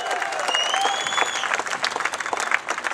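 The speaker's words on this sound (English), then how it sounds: "Big round of applause for Michel Fabrizio." Audience applause at a World Superbike race podium in the USA in 2008, a dense, steady wash of clapping with a few cheers and whistles for about three seconds, fairly loud and continuous.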